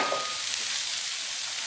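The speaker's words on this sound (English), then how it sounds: "Put my vegetables into the hot pan." Vegetables hit a hot pan for savoury rice, giving off a bright, steady sizzling hiss that carries evenly and close for the whole short stretch.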